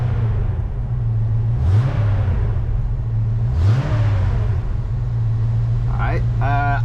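A 1990 Ford F250 with a 351W V8, fresh from a water pump replacement, idles steadily and is revved twice in quick rising swells, with a voice briefly heard at the end.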